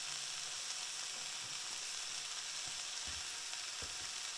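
Sourdough multi-grain bread sandwich cooking, a faint continuous sizzle with a few soft clicks and knocks, no talking.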